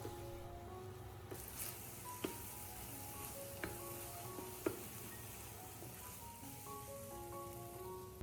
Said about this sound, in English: toss the fried shrimp into the sauce and stir gently for about 2 minutes